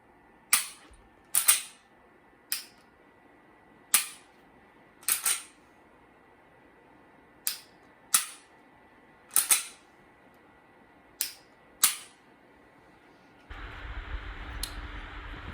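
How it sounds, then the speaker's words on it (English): Glock pistol dry-firing with a laser training cartridge, about a dozen sharp metallic trigger clicks spaced irregularly, some in quick pairs, in a quiet room, followed by a hiss of background noise. "So I'm going to take my laser cartridge and put it into my Glock. And now I'm going to start shooting."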